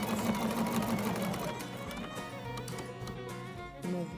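A sewing machine stitches in the ditch on a quilt, running with a steady close mechanical whir and rapid needle rhythm, while a voice talks at the start.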